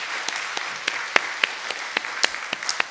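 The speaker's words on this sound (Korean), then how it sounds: "우리 서로를 위해서 박수 한번 하시죠." Scattered hand clapping rises from a church congregation at an Easter service, a thin, uneven patter with a few sharper individual claps popping out, moderately quiet and without talk.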